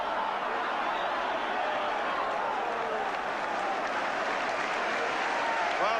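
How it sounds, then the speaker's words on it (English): A large football crowd at a 1983-84 West Ham United versus Manchester United match applauds steadily, a dense continuous wash of clapping and crowd noise from a packed stadium. "crowd applauding that one-touch football by West Ham"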